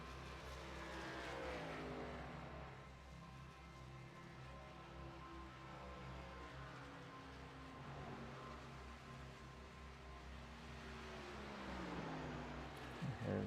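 ARCA stock cars race around a track, their engines droning continuously, with pitch rising and falling as cars pass and a steady wash of motor noise throughout.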